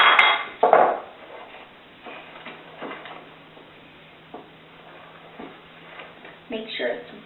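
Cookie dough being stirred in a bowl after flour and baking soda are added, heard as irregular clinks and scrapes of a utensil against the dish, with a person speaking over part of it.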